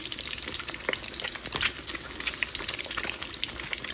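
Hot oil bubbles and spits in a pan on a stove turned down to lower heat, a dense close crackle with sharp pops scattered throughout and no talking.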